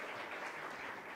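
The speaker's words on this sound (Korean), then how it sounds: "우리 이 총장님에게도 우리 감사 박수를 한번 하면" Faint, brief applause of thanks rises from an academic seminar audience, a soft continuous patter of many hands heard at a distance.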